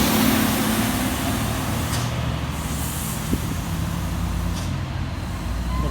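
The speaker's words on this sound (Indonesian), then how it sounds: "Truk tambang ada 2 unit melintas." Heavy mining trucks climbing and passing on a busy hill road, a steady loud engine rumble with a brief air-brake hiss and occasional clanks, no talk.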